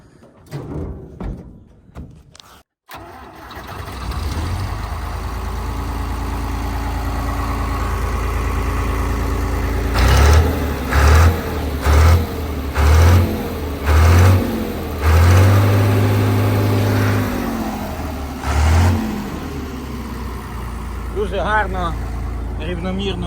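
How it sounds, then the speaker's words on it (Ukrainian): The large diesel engine of a John Deere 955 combine harvester cranks, starts and runs steadily, with repeated loud revs and rhythmic knocking pulses in the middle before settling back to a rumbling idle. "Так, зараз його запустимо. Покажу як працює двигун."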